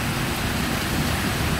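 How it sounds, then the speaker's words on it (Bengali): Rain falling in Malaysia around midday, a dense, steady hiss of broadband patter that holds even and unbroken throughout, with no voices over it. "দেখেন কত সুন্দর বৃষ্টি হচ্ছে"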